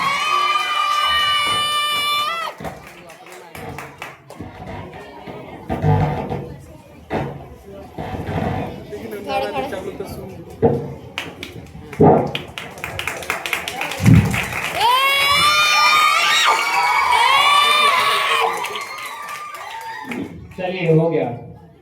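Schoolchildren at an Independence Day school gathering clap, shout and cheer to welcome a speaker. Excited young voices and bursts of applause rise and fall together, loudest toward the end, with a crowd atmosphere throughout.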